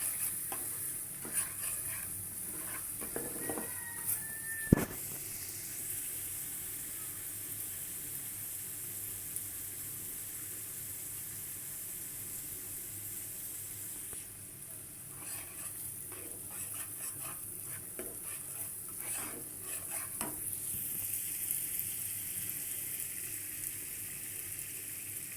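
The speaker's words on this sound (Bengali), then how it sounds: "তো ভালো করে মশলাটা কষানো হচ্ছে।" Spice paste for a deshi chicken curry sizzles steadily in a pan, with intermittent scraping stirs and a sharp clink of a utensil, close and continuous throughout.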